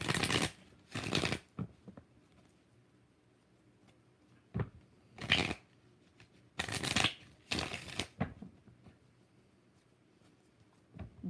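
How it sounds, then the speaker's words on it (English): Tarot cards are shuffled in a quiet room, with several separate bursts of riffling and slapping cards spread across the stretch and short pauses between them. "so 4 shuffles for Dorothy Collins, a general"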